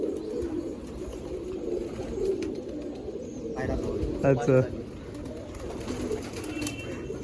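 Pigeons cooing at a loft as dark rain clouds gather, soft low coos spread through the background, with a brief louder call midway, while someone talks over them.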